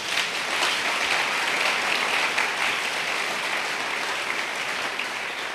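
A church congregation claps and cheers for Jesus during a service, a loud, dense, sustained wave of applause filling the room without pause.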